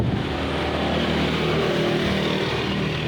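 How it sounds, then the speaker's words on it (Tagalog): A motor tricycle's engine runs loud and close, a steady rough drone with a slight rise and fall in revs and no voices over it. "Kukunin ko muna yung tricycle ko."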